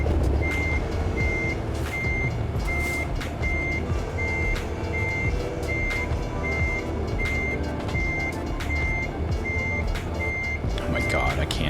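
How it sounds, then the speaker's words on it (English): A truck's reversing alarm in American Truck Simulator beeps steadily and evenly over a low engine drone, with a person talking over it now and then. "It's gonna be loud for a bit with the beeping."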